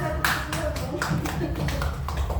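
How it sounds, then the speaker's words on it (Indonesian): A group claps hands at a teacher training session on positive school culture, a short burst of scattered claps repeating across the moment while voices talk underneath. "Tepuk tangan."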